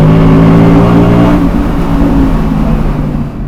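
Audi R8 Spyder RWD with its V10 engine revs loud and close, a sustained high-pitched howl that holds steady and then eases off as the pitch falls away toward the end.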